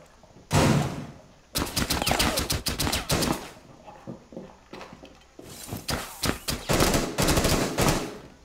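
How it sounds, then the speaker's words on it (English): Rapid automatic gunfire in Rainbow Six Siege during an Oregon team deathmatch hostage round, loud bursts of close shots in quick strings with brief pauses between volleys. "She just shot my weapon, Matt."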